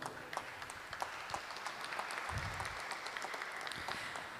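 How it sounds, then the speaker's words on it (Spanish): Audience applause at a parliamentary event in Santa Fe, steady and moderately faint, filling the whole span with no speech on top. "Un aplauso, por favor."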